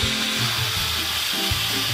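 An Instant Pot pressure cooker vents steam through its release valve, partly covered by a towel while cooking pinto beans, producing a constant, fairly loud rushing hiss with low rumbling underneath.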